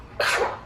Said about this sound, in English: Those were big sneezes.